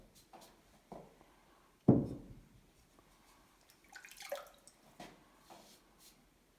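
Water sloshing and dripping in a bucket of warm water while glaze is sponged off the bottom of a ceramic mug; sparse, close splashes and drips with one sharper splash, quiet and alone.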